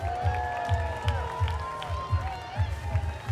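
Crowd applause and cheering for dancers at a small-town Fourth of July parade, rising over steady rhythmic drumbeats and music with a voice carrying through.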